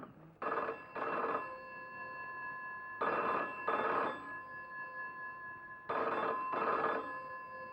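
An old-style telephone bell rings in three double bursts at steady intervals, fairly faint, clear and alone with quiet pauses between rings.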